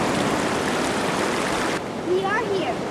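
Floodwater waves rush and churn near a camp lodge, a loud steady wash of water that cuts off partway, after which a voice speaks over quieter water.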